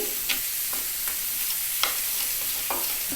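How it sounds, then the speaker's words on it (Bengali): Spice paste being stirred together with water in a pan while making gola ruti, a Bengali batter flatbread: several soft scraping and sloshing strokes spaced irregularly over a steady background hiss, with no talking. "এই যে মশলাটা সব কিছু ভালো করে মিক্সড করে নিচ্ছি"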